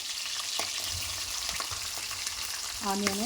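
Onions frying in a pan for a country chicken curry, a soft steady sizzle with small crackles, then a short tonal clink near the end.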